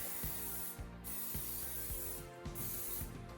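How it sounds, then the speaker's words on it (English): Canola oil sprays from a can onto a waffle maker in a series of short hissing bursts, each starting with a mechanical click from the nozzle, fairly close and quiet, with no talking. "I'm just going to quickly spray it here with some canola oil, just so it doesn't stick."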